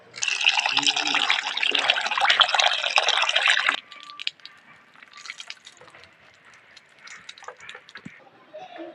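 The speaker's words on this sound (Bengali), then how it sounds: "আলুগুলো সব কেটে নিয়েছি, ও জলে ধুয়ে নেবো" Cut potatoes being rinsed in water, a loud dense splashing and swishing for the first few seconds, then dropping to quieter drips and light movement.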